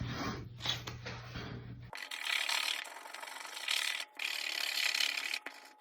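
A paper savings challenge scratch card is being scratched, a dry raspy rubbing in several close strokes with brief pauses between them, quiet and with no talking.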